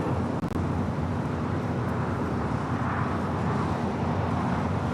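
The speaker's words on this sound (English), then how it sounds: "Flight just touching down" An American Airlines A321 airliner touches down at Los Angeles LAX with a steady, broad roar of jet engines and rushing wind. There is a brief thump near the start, and the sound is heard from a distance with no voices.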